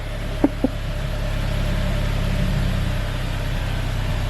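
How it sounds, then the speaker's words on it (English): A Saab 9-5 with PCV trouble idles steadily, its engine settling down to normal idle as it warms, a continuous low hum with two brief clicks near the start and no talk. "So now the engine is revving down, or going down to normal idle."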